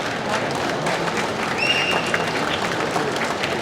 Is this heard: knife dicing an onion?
no